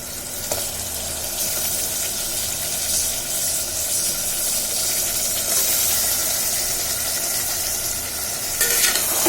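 Mutton sautéing over high heat in a pan gives a loud, continuous hissing sizzle, with light stirring scrapes throughout and a brief clatter near the end, close up and without talk.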